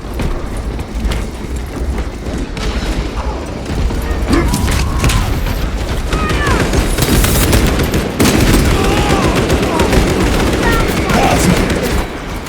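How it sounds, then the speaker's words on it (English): Small arms fire rattles without pause through a battle in the Space Marine 2 video game: dense, loud bursts of automatic gunfire and booms, with mechanical clanks and shouted voices mixed in. "Small arms fire."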